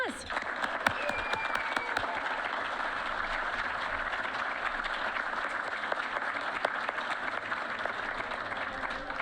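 An audience gives a guest speaker, an assistant head coach from the University of Nebraska, a round of applause at an awards event; dense, even clapping runs throughout at moderate level with a few sharper claps early on.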